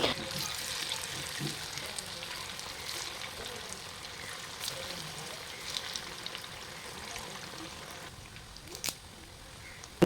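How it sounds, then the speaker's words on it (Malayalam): Cornflour-coated chicken frying in oil, a low, even bubbling sizzle with occasional faint clicks, fairly quiet and continuous, ending with a sharp knock. "പിന്നെ ചിക്കൻ ഫ്രൈ ആക്കാൻ ഞാൻ കോൺഫ്ലവറൊക്കെ ഒക്കെ ഇട്ടിട്ട് പിന്നെ തളിച്ചെണ്ണയിലൊക്കെ ഇട്ടിട്ട് അത് ഫ്രൈ ആക്കുന്നുണ്ട്"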